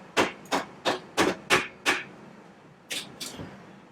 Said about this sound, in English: I'm going to start tapping my axle through gingerly while I use one hand to move stuff around.